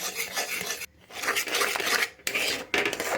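Toast crumbs being stirred into thick milk kheer in a pan: close, steady scraping and rubbing strokes, broken by two or three brief pauses.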